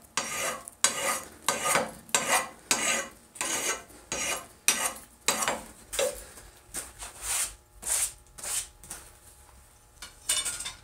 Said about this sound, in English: Use the full length of the file to get your cut.